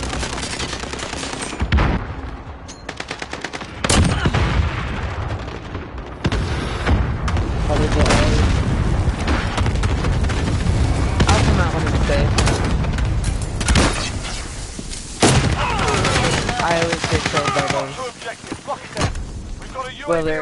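Dense, loud bursts of automatic and single gunfire from a multiplayer Rust match, with heavy booms and sharp cracks repeating through the whole stretch, close and continuous, while a player talks over it.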